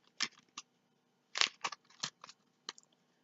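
A deck of playing cards is riffle shuffled, with quick crisp fluttering bursts of card edges in a few separate short clusters, close and quiet in an otherwise silent room.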